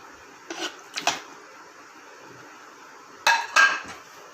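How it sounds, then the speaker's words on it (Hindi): Pieces of meat dropped into a pot of onions for Pakistani gobi gosht, giving a few sharp metallic clinks and clatters in two short bursts, close and moderately loud with no talk. "अब इसमें मैं गोश्त डालने लगा हूँ।"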